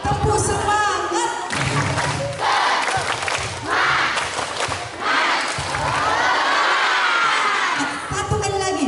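Elementary school children in a classroom chant and clap a rhythmic group cheer together, loud and close, with repeated bursts of claps mixed with shouted voices.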